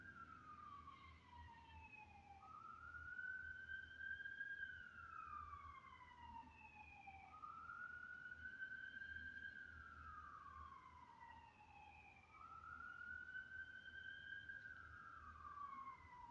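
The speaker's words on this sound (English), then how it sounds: "Sirens in the background. I hear." Emergency vehicle sirens wail in the distance, rising and falling in long repeated sweeps that sound faint and steady, with no talk over them.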